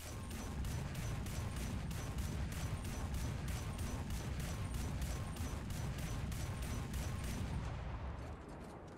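A Begleitpanzer 57's 57mm autocannon fires in War Thunder, a steady stream of heavy booming shots in regular rhythm, loud and dense throughout before tapering off at the end.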